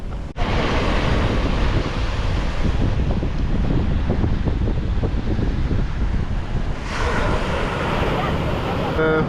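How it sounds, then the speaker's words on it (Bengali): Strong wind buffets the microphone on a white-sand Barbados beach while big waves roll and crash in the background, a steady loud roar that swells again near the end; a voice speaks briefly beneath it. "আজকে একটু ওয়েদারটা একটু খারাপ খুব হাওয়া দিচ্ছে আর বড় বড় ঢেউ"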